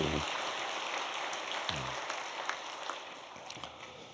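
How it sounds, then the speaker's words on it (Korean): A church congregation at a special early-morning prayer service claps in thanks, a faint, soft, rain-like patter of many hands that fades gradually, with a low voice briefly heard. "하나님께 우리 감사 영광 박수 올려드립시다"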